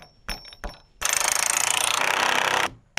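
A power tool drives big 3/4-inch bolts through wood into a pole for a treehouse build: one loud, steady, rattling burst of about a second and a half, close by, after a few short clicks and knocks.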